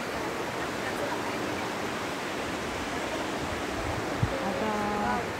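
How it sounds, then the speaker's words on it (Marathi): Water rushes steadily over a dam at a picnic spot near Badlapur, making a broad, continuous hissing roar that holds even throughout, with faint voices briefly audible near the end. "बघा हे धरण हे बघा किती छान पाणी असं सुसू सुसू सुसू पाणी चाललंय."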